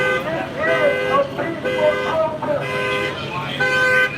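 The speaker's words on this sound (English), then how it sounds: "I don't know if you can hear that over this car with the alarm going off." A car horn or car alarm sounding on a downtown Los Angeles street during a protest, with sustained tonal blasts over busy crowd and traffic noise.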